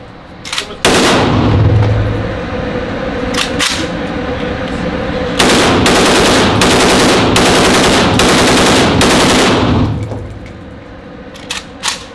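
A full-auto machine gun fires a 30-round burst outdoors at a shooting range, a loud, fast, continuous rattle in two long strings separated by a short pause, with a few single cracks and clinks around them.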